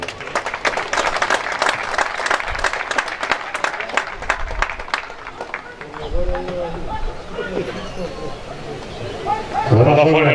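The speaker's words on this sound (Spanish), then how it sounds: "un fuerte y cariñoso aplauso." Audience applause at a Chilean rodeo championship series in Los Andes, dense rapid clapping for the first half that thins out as a voice and crowd chatter take over.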